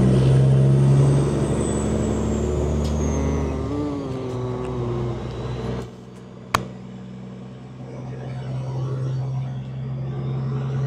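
A Peterbilt 389 flat top truck engine heard from inside the cab, a loud deep idle drone that drops and settles into a lower steady rumble, with a sharp click partway through.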